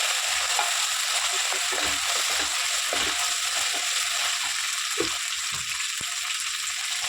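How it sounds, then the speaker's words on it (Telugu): Ginger paste fries in a pan with a dense, continuous sizzle, and faint scrapes and taps from stirring come through underneath. "అల్లం పేస్ట్ కూడా మంచిగా ఎర్రగా వేయనివ్వండి."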